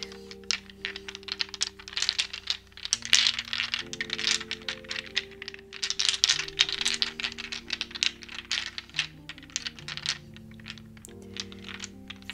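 Large dice clatter and tumble across a hard surface in quick, rattling bursts, with soft tonal music humming underneath.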